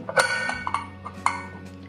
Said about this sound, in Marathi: आता शिट्टी लावून घेते आहे।